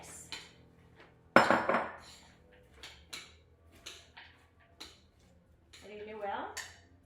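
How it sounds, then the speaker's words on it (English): A spoon stirs popcorn and almonds into a sticky maple caramel mixture in a pot. One loud clatter is followed by repeated softer scrapes and knocks against the pan, close by and without talking. "now into this I will add the popcorn and the almonds. Mix."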